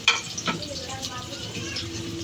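Chopped onion sizzles and fries in a pan for an egg curry, a steady low crackle with a few stirring clinks near the start.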